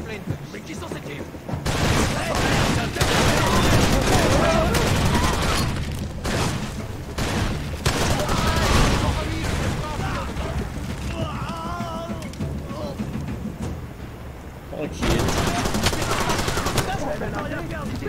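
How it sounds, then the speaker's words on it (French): Rapid bursts of automatic gunfire and explosions from the Far Cry 2 game fill the scene, dense and loud, with a voice talking over the shooting. "Mais qui sont ces tirs?"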